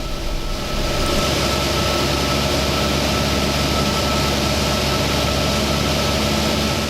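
A small aircraft engine drones loud and steady, close up inside the cabin, with throttle added on a training descent under instrument conditions. The continuous hum sits alone with no voices.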